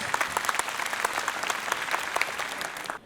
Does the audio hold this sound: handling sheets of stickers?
no